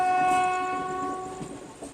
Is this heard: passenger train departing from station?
yes